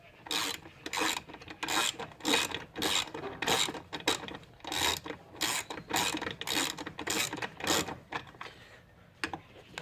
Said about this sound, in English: Let me drive this in a little bit more, and then I'll tighten them down completely.